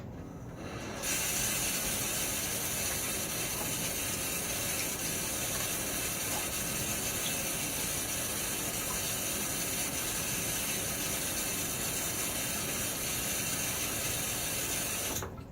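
A Gillette Nacet blade in a Wolfman Guerilla safety razor is rinsed under a running tap: a loud, steady rush of water that starts abruptly and runs unbroken for about fourteen seconds.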